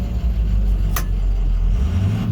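Ford F650 work truck with a VT365 diesel engine creeping forward under load, a steady low engine drone with one brief sharp tick near the middle, no voices.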